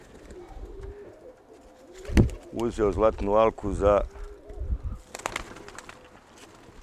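A racing pigeon coos in a burst of several quick, rolling calls close by, set among quiet background sound, with someone talking just before and after.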